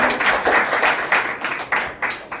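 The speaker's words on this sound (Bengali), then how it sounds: "স্যারের জন্য একটা হাততালি দেবেন" An indoor audience at a wellness business meeting claps for a speaker, giving a short burst of uneven, rhythmic applause.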